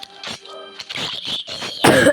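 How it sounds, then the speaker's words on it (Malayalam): A person coughs several times in short, harsh bursts, close to the microphone, ending in a louder, rougher cough. "ചുമയാണ് ഗൈസ്, ചുമ."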